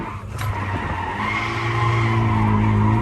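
An automatic car drifting, its tires squealing and skidding continuously for several seconds over a steady, loud engine drone.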